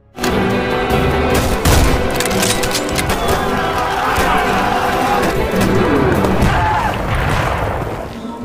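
A World War I trench battle rages with rifle and machine-gun fire, cracking shots and booming explosions, a loud, continuous barrage of overlapping bursts.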